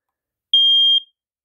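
A single steady high-pitched electronic beep from an SA303 smoke alarm, about half a second long, loud and close, alone against silence.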